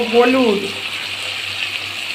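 Water poured into a pan of cumin and chili in a home kitchen while cooking a live catla fish curry, giving a brief gurgling splash that fades into a steady hiss, close and loud.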